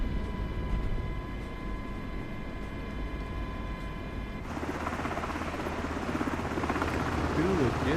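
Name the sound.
MH-60 helicopter engines in Microsoft Flight Simulator video game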